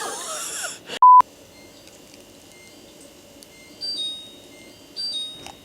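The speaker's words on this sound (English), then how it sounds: "There's so many different things beeping right now." A washing machine gives one loud electronic beep near the start, followed by quieter tonal hums and faint beeping tones from nearby appliances, with no talking.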